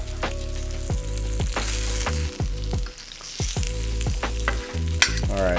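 Salmon in a spicy honey soy marinade frying on a Steelmade flat top griddle, a loud continuous sizzle near at hand, punctuated by repeated metallic scrapes and taps of a spatula.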